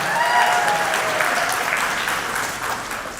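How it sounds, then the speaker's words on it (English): Applause at a wedding reception right after a speech, a dense, steady wash of many hands clapping close up that thins gradually toward the end, with no voices over it. "please a big round of applause for that great speech from Vishal's best friends."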